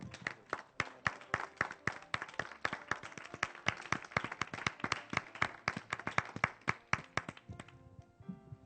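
A church congregation claps in fast, steady rhythmic unison, crisp hand strikes following one another at a brisk even pulse for several seconds before trailing off into scattered claps.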